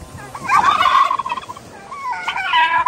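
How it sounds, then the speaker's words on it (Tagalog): Turkeys on a farm gobble loudly and close, two rapid warbling bursts with a short pause between, over faint background noise. "Yan, ang dami na namin pabo guys."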